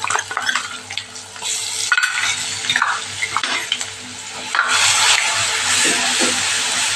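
Garlic-ginger paste, sesame seeds and asafoetida sizzle in hot oil in a pan, a close, broad hiss broken by scraping stirs with a utensil, the sizzle swelling louder near the end.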